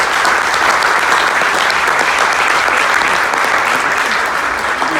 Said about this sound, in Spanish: tanto para ustedes y como para el auditorio, una felicitación y un aplauso